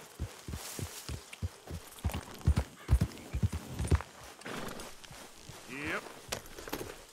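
Horse hooves clip-clop in a video game, a quick run of hoofbeats up close, later joined by a brief whinny.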